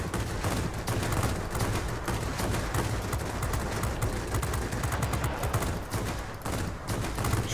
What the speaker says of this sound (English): Trying to not overheat my 37mm cannon